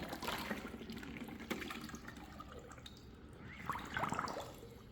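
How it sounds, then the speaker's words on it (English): A WYBOT C1 Pro robotic pool cleaner held in a swimming pool as it fills with water, close gurgling and bubbling with small splashes and trickles, rising in a burst near the end. "gently kind of hold it here until it fills up with water"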